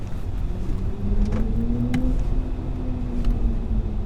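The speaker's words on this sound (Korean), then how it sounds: "가속할 때만 커지는 게 아니라 브레이크를 밟으면 브레이크 밟을 때 다시 볼륨이 커지는 사운드가 있어요." A BMW electric car's synthetic drive tone swells as the brakes are applied, a smooth steady hum heard close up over road rumble with no talking.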